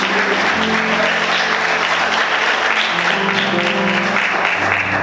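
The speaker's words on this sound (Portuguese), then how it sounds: "Aplauda o Senhor mais forte, né, queridos?" A church congregation applauds steadily and loudly at an evening service, a dense, continuous wash of many hands clapping without pause for the full stretch, no speech rising above it.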